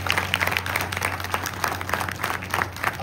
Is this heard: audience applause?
yes